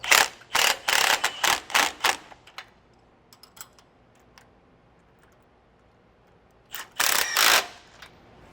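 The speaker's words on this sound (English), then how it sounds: "I got a socket and wrench here to hold this in place." A socket wrench ratchets on 19 mm bolts during a rear anti-sway bar install on a 2024 Ford F-53. Quick loud clicking bursts come up close at the start, followed by near silence and a final burst of ratcheting.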